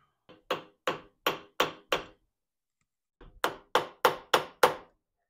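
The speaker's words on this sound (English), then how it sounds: "I'm just gonna tap these in here. And we're gonna use a baby hammer" A small hammer taps bushings into a Toyota Celica RA24 door hinge: two sharp bursts of five evenly spaced metallic knocks, separated by a pause of about a second, close and distinct with no talk.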